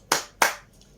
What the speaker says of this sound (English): Give applause to Anis group.